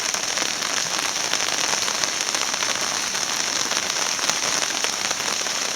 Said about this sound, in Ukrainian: А сьогодні зранку дощі.